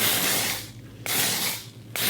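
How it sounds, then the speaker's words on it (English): Two long bursts of hair spray mist onto wavy hair, close and hissing, separated by brief pauses with a light click at each restart, no talking. "now we spray"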